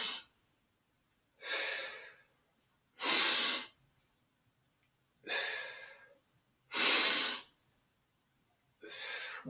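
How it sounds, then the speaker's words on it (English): Controlled exercise breathing in a martial arts workout, six strong rhythmic breaths in and out at close range, each about a second long and evenly spaced, with silence between them. "And you want to breathe in and out on that."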